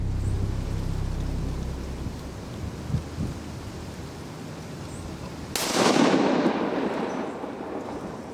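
A single rifle shot fired at a buck during a deer hunt, cracking out loud around the sixth second and rolling off into a long fading echo over steady outdoor background noise.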